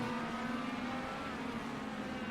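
Race cars on the Indianapolis road course drone steadily at a distance, a continuous engine hum during a NASA Championship Series race, with no talk over it.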